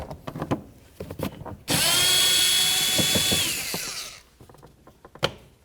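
A power drill spins out a door panel screw on a 1999-2007 Ford Super Duty F-250, one loud sustained whir of about two seconds, bracketed by soft clicks and handling noises.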